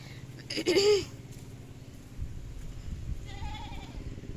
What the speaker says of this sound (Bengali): ছাগলটা ভ্যাবা করে ডাকছে